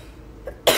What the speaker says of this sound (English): But I do got a little cough.